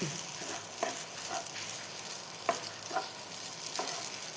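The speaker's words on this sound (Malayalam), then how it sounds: "അപ്പോൾ തേങ്ങയും വറുത്തെടുത്തിട്ട് കാണാം നമുക്ക്" Grated coconut roasts in a pan with a constant soft hiss, and a spatula scrapes and taps at a slow, irregular pace close by.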